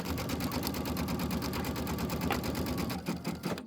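A sewing machine runs steadily while stitching a mini quilt from a Kimberbell embellishment kit, its rapid needle pulses close and continuous before slowing and stopping near the end.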